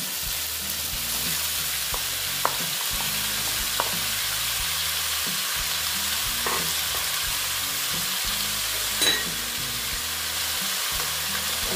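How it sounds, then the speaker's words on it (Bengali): Chopped banana flower sizzles and fries steadily in a pan for a Bengali mochar ghonto, with a continuous hiss broken by occasional sharp clinks and scrapes of a stirring spoon against the pan. "মোচাগুলো আমি এখানে দিয়ে দিচ্ছি"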